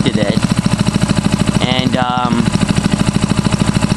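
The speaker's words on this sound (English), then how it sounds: "so now it's basically idling" A Honda GC160 small engine idles steadily with its governor disconnected, a close, even putter with a fast regular firing rhythm throughout, while someone talks briefly over it.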